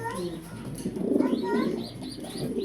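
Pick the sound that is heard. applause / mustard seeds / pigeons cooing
pigeons cooing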